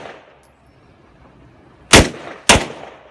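Two sharp handgun shots crack at an outdoor firing range in Bulacan, Philippines, about half a second apart, loud and close with brief echoing tails after a quiet lead-in.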